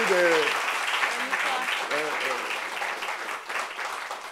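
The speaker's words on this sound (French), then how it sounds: "Est-ce qu'on peut applaudir encore pour elle?" An audience at a French discussion event claps after being asked to applaud again for a guest, a broad wash of hand clapping beneath a voice speaking over it at the start and midway, gradually thinning out.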